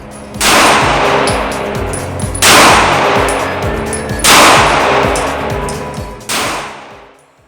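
CZ75 D Compact PCR pistol fired outdoors, four loud sharp shots spaced about two seconds apart, each with a long ringing echo decaying behind it, no talk.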